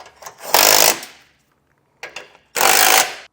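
Two short, loud bursts from a power impact tool with a 16 socket snug base plate bolts on a 2022 Jeep Grand Cherokee, each rattling buzz separated by quiet with small clicks between.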